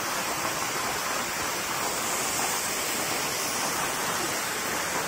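A forest waterfall on a hiking trail pours as a dense, even roar of rushing water, steady and fairly close, with no voices.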